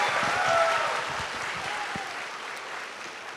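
Audience applause for a guest on a campus talk show event, steady clapping from a crowd filling the room at moderate loudness, with a few brief voices mixed in.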